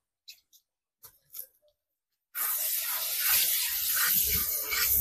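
Spices sizzle hard in hot oil in a pan, a loud, dense hiss that starts abruptly after a few quiet knocks and clinks and holds steady to the end.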